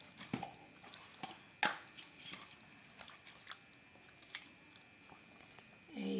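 Ghee being worked by hand into marinated mutton for kacchi biryani, with soft, wet squishing and dripping sounds, close but faint, coming in irregular small pulses.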